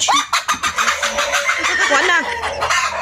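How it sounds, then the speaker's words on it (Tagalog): Chickens cluck close by in a rapid, busy run of short calls, with a faint bit of crowing mixed in and no talk over them. "Chickens."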